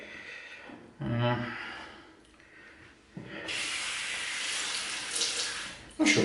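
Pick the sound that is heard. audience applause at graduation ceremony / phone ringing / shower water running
shower water running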